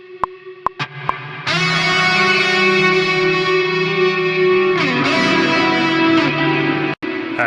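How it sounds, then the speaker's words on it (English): An electric guitar runs through the tremolo of a Qi Etherealizer pedal, opening with a few plucked notes before a loud, sustained wash of effected chords with echo and shimmer that pulses steadily and cuts off near the end. "maybe we'll use this trem finally"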